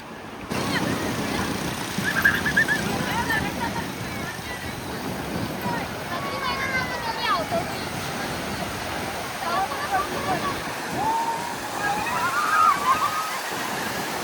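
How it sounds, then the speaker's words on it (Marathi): Sea waves break and slosh on the shore at Arnala beach in a busy, uneven wash that swells and falls, with faint voices of people playing nearby underneath. "मस्तपैकी लाटा येतात समुद्राच्या"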